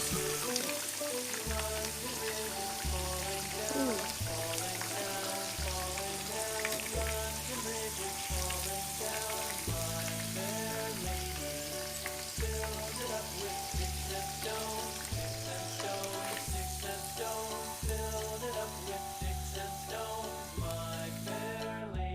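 Chicken katsu deep frying in hot oil gives a steady, dense crackling sizzle that runs unbroken for the whole stretch, set against a continuous tonal backdrop.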